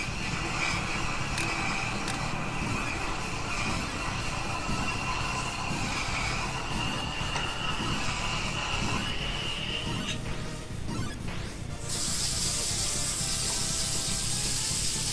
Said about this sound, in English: Toilet flush!